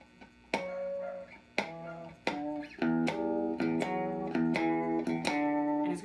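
Distorted electric guitar notes picked one after another, several ringing as pinch harmonics with squealing high overtones, building into sustained chords.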